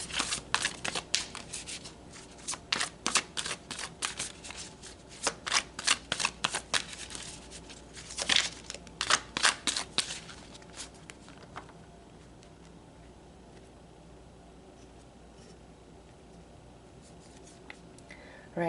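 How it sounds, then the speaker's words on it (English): Tarot cards being shuffled and drawn, a run of crisp close riffling and slapping bursts in quick succession, followed by quieter, sparse card handling. "let's pull some more tarot"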